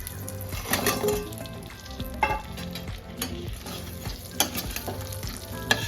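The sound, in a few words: frying chira pitha in butter, stirring with a spatula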